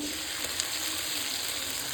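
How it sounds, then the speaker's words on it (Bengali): Tomato, garlic, ginger and green chili paste sizzling in a pan of browned frying onions, a dense continuous hiss with light crackles, close and unbroken. "এবার টমেটো রসুন এবং আদা কাঁচা লঙ্কা পেস্টটা দিয়ে দেবো"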